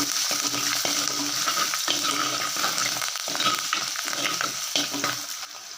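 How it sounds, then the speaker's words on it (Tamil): Garlic and curry leaves frying in oil for a kara kuzhambu, a loud steady sizzle up close with repeated scraping stirs that eases slightly toward the end, with no one talking. "இதுவும் பூண்டும் கொஞ்சம் எண்ணெயிலே நல்லா வதங்கட்டும்"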